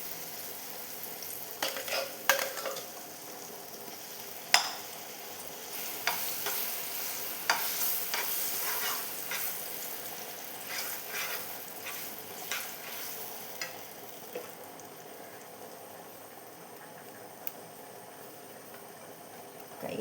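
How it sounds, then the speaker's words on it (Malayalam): Chunks of jackfruit halwa (chakka varatti) sizzle in hot ghee in a pan, with a spoon scraping and stirring in repeated clinks and rasps over a steady faint frying hiss, no voices. "അപ്പോൾ ഇതാ ചക്ക വരട്ടി ഈ നെയ്യിലേക്ക് ഇട്ട് കൊടുക്കുന്നുണ്ട്"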